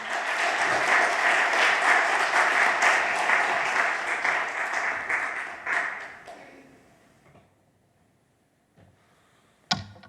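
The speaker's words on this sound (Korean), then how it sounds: "나오실 때 큰 박수 부탁드리겠습니다" A church congregation gives loud, sustained applause as a battalion commander comes forward at a military missionary commissioning service, dense clapping for about six seconds before fading into quiet and a single sharp knock near the end.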